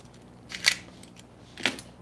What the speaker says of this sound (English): And cut a small piece of it.